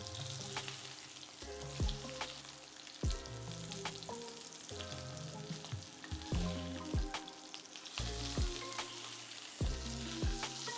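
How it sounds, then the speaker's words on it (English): Sous vide ribeye steak searing in a hot pan, a steady close sizzle with repeated clanks and taps of tongs shifting the meat, no talking. "Get one side nice and seared."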